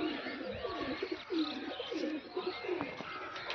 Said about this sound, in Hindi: तो ये आ गई कबूतरी